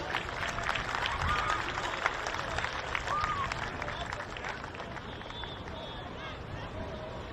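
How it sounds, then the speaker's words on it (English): A crowd at a carnival awards presentation claps in a moderately loud, steady patter, with a murmur of voices and scattered calls mixed in. "We'll give them a round of applause."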